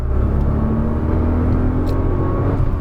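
A Nissan GT-R accelerates on a race track, its engine a loud, close, continuous roaring drone that holds steady for a few seconds without pause.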